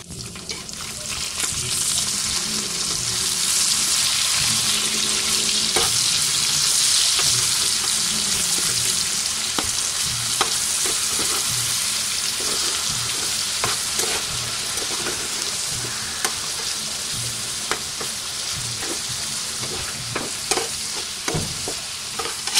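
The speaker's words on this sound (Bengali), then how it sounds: "এখানে হচ্ছে মাছ ভাজা" Fish frying in a pan on a home stove alongside a pot of dal, giving a dense continuous sizzle with repeated scraping and stirring clicks throughout, alone without talk.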